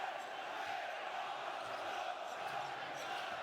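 Steady, loud roar of a home crowd at a Basketball Champions League game between UNET Holon and Filou Oostende, sustained throughout with no breaks or distinct peaks.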